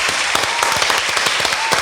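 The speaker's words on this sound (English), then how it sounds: "Hey, let's clap it up, man." Loud, close clapping on a casual podcast recording, a rapid run of sharp hand claps in quick irregular succession filling the short moment.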